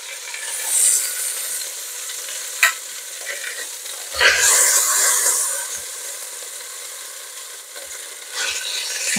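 Pieces of lamb searing in a hot pan, a loud close crackling sizzle with occasional bursts and clatters as the meat is moved, no talk.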